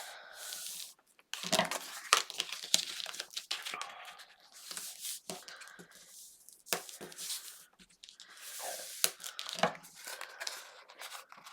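Paper ends of a crafted album are folded and creased, giving close crinkling, rustling and sharp papery snaps in irregular bursts, with no talking.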